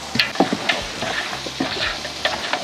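Chili and onion fry in a pan for a traditional meat curry, a close crackling sizzle broken by repeated scraping stirs at a fairly regular pace.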